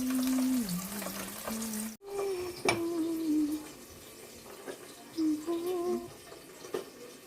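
Boiled beans fry in a kadai with a steady close sizzle, broken by a few clinks and scrapes of stirring, while a voice talks intermittently over the cooking.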